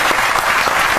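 Loud, close applause with a group of people clapping together in a dense, continuous burst.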